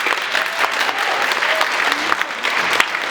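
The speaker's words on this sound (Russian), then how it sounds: "Аплодисменты." A concert audience applauds at the closing part of a performance, dense sustained clapping from a large crowd filling the room, steady and fairly loud throughout.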